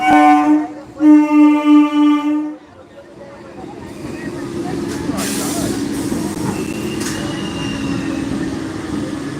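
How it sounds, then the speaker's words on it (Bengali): A train horn sounds in a few loud pulses, then a steady rumble of a train rolling into a railway station market with background chatter. "দেখো ট্রেনটা চলে আসছে"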